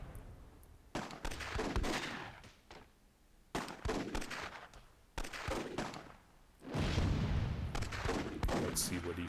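Repeated bursts of gunfire and heavy cannon booms from a Myth II Soulblighter WWII tournament battle, arriving in separate loud clusters with gaps of quieter ambience between them.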